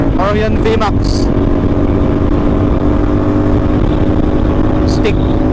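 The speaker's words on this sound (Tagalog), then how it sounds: "Sobrang ingay siguro ng tambutso ko." A loud CFMOTO NK450 motorcycle with an Orion exhaust rumbles steadily close by, a deep continuous exhaust roar with brief voices breaking in near the start.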